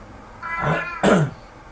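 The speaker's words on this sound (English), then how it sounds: "Excuse any noise from the cat." A pet cat named Metz gives two short meows close by in quick succession, the second brighter and more abrupt, against an otherwise quiet room.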